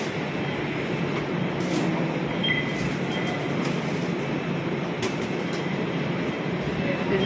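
An MRT/LRT train sits at or moves along a station platform, a steady rumbling rail noise with occasional clanks, heard under the murmur of a crowd.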